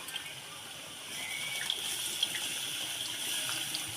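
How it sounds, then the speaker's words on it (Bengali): Water is poured from a tap or jug into a cooking pot for a sour okra chutney, a steady hissing splash that starts soft and grows fuller after a second, running continuously. "আর একটু দেবো জল"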